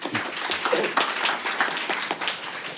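An audience at a 2019 Jeju Forum session applauds to welcome a panel discussant, a close, busy patter of many hands lasting a few seconds.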